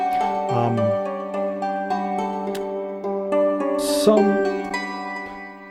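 Sustained guitar notes and chords with a sweeping, whooshing flanger effect, played alone at moderate volume with a bright burst partway through.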